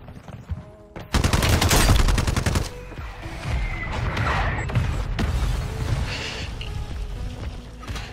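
Rapid bursts of automatic gunfire in Call of Duty Warzone, loud and dense after a quieter opening second, then continuing as scattered shots and mechanical clatter under the game's ambient noise.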